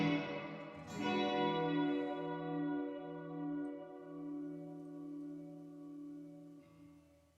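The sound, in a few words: reverb effect added to the music mix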